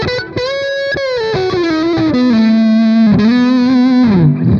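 Electric guitar lead through an Amplitube 5 Mesa Boogie Mark IV lead channel: a saturated, sustained single-note melody with gliding bends and vibrato, loud and close with light reverb, dropping away at the very end.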